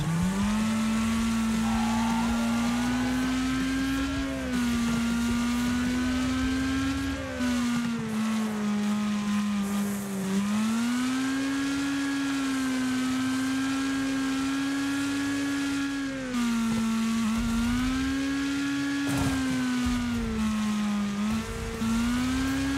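Race car engines in the Wreckfest video game hold a loud, steady drone, the pitch climbing and falling in repeated waves as the cars shift and rev, continuous and with no talk.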